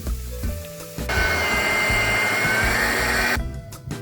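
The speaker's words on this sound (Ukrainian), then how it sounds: "Охолоджу і перекрутю на м'ясорубку" An electric meat grinder mincing sautéed onion and carrot, its motor whirring loudly and steadily for a few seconds after a brief start-up, then cutting off, with faint clatter around it.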